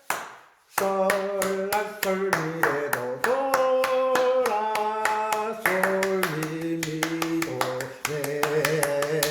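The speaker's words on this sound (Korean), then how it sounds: "박수치기를 하는 거예요. 박수치기." Steady, evenly spaced hand claps keep the beat in a singing class while a voice sings note names over them, the claps sharp and close throughout.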